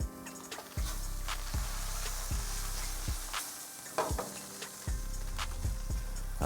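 Mahi mahi frying in oil in a non-stick pan: a steady sizzle runs throughout, broken by repeated low knocks and scrapes of the pan or utensil, close and moderately loud.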